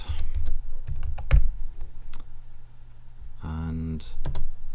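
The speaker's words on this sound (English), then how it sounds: "So I will create a text which I can type down here" Text is typed on a computer keyboard in quick clusters of crisp, close keystrokes with short pauses, and a brief voice sound breaks in partway through.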